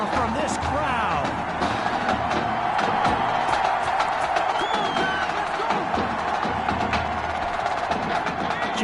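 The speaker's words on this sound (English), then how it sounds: "A big-time play that gets a roar from this crowd." A video game football crowd in Madden 21 roars after a big play, a dense, sustained stadium din of cheering and whoops with voices mixed into the noise.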